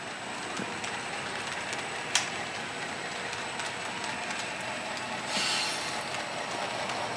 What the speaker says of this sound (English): It's always something nice to see trains kind of passing like that